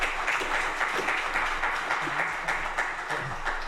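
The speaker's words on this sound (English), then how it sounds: "I think you should be applauded." Audience at a WildCRU wildlife conservation science talk applauding, a continuous patter of many hands clapping, moderately loud and even for a few seconds.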